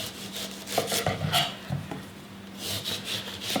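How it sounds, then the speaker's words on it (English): A watermelon being peeled with a knife: soft scraping and rubbing strokes against the rind, close and moderately quiet, in an irregular rhythm with no talking. "So we're going to start out by just peeling the watermelon really quick."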